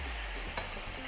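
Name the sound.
vegetables and spicy sausage sizzling while stirred in a pot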